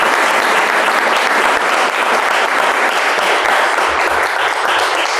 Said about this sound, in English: So big hand of applause for our staff.